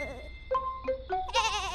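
A cartoon sheep gives a series of short, wavering bleats, several brief calls in a row ending in a louder, brighter one, close up with no talking.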